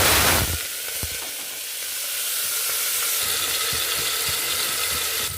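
Three tablespoons of oil in a pan for mutton keema curry fry with a steady bright sizzle that follows a loud initial hiss and carries on evenly. Faint clinks of stirring sound underneath, and nobody speaks.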